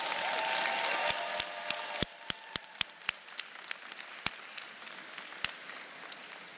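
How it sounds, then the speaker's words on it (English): Scattered applause at a medical school commencement ceremony tapers off into a few sparse, distinct claps, fairly quiet and set back in a large room. "Will everyone please join us again in a round of applause for these students?"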